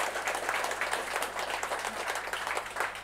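An audience at a Ukrainian Women's Congress event applauds, a continuous, fairly distant wash of clapping from many hands that runs evenly throughout without talk.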